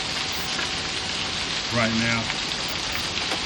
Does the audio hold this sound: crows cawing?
no